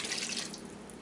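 Clam juice from an 8-ounce jar poured into a pot of fish stew, a short soft splashing trickle of liquid, quiet and close, easing off toward the end.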